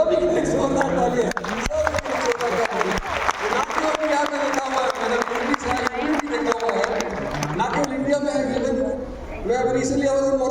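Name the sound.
audience applause at a DXN meeting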